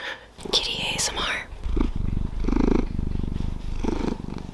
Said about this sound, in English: I'm sorry if you hear my cat. He's being very needy right now.